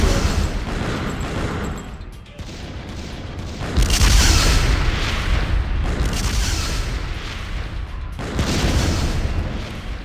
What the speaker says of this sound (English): He's firing missiles!